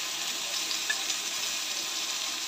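Pieces of broiler chicken fry in hot oil in a pan, giving a steady, even sizzling hiss close by with small crackles and no talking.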